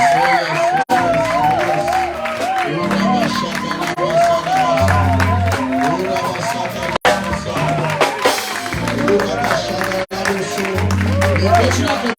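A church congregation cheers and applauds loudly, a dense crowd roar with whoops and excited voices that stays full throughout.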